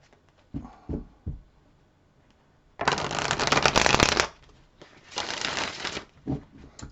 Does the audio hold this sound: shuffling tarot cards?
yes